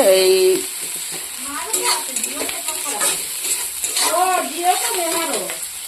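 A pan of garlic, green chillies and onion sizzles loudly and continuously, with stirring clinks and scrapes, while a voice talks over the frying.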